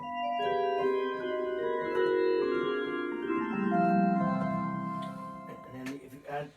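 Electronic organ with a 2-foot stop added, bright and piccolo-like, playing a sustained melodic line with descending notes, close and steady, followed by a few soft knocks at the end.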